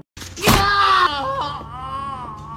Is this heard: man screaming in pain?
yes